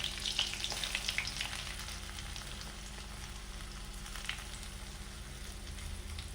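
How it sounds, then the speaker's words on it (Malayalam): Semolina (rava) dry-roasting in a pan for upma, giving a soft, steady sizzle and faint scraping of stirring throughout, close and fairly quiet with no voices. "ഉപ്പുമാവിന് ആവശ്യമായ റവ അതിലേക്ക് ഇട്ട് കൊടുക്കുക വറുത്ത റവയാണ് എന്നാൽ നമ്മളൊന്നും കൂടി"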